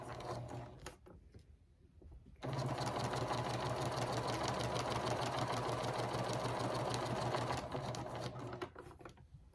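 Sewing machine stitching around the edge of a fabric scrap mug rug, running in a steady fast mechanical whir for several seconds after a few short starts, then slowing to a stop, close and alone.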